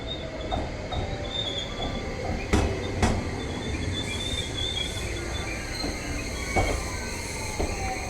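A Yakumo limited express train pulls into a Japanese station, its wheels rumbling and clattering over the rails with sharp metallic squeals and clanks, close and fairly loud without any talking.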